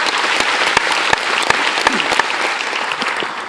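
Audience applause at an Irish citizenship ceremony in the Dublin convention centre: a large crowd clapping steadily and densely for the whole stretch, with some sharper individual claps standing out, no talk over it.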